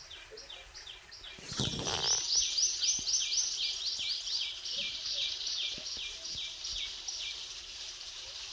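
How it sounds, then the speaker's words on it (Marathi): Birds singing on a village morning, giving repeated bright chirping phrases that run steadily throughout at moderate distance, with a short rustling burst early on and no voices. "पक्ष्यांचा आवाज येतो"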